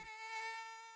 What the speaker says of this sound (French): Viens par là, petite mouche.